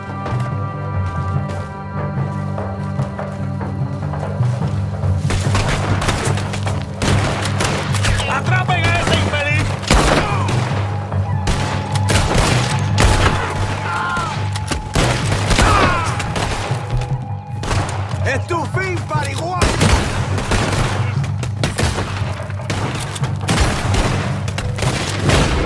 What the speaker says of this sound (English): There's another set of cannons up ahead!